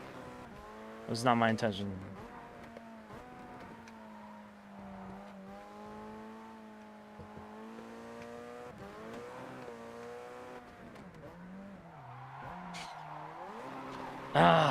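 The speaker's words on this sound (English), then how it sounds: "Too much downshifting caused me to oversteer a little bit." A car in a racing video game engine drones steadily while its tires skid and squeal as it oversteers after heavy downshifting, heard under continuous talking from a nearby voice.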